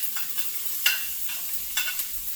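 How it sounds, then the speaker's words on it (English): Extra virgin olive oil sizzles in pans, one of them stainless steel, on a wood stove, with several sharp stirring scrapes over a steady fry. "Here, I put about 1 tablespoon of extra virgin olive oil into each pan."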